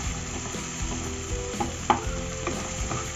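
Brinjal, carrot, beans and green peas sauté in a pan for sambar rice, with a steady close sizzle and occasional scrapes of a stirring spoon.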